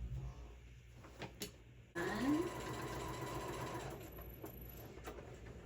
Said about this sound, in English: I choose easy and a sewing machine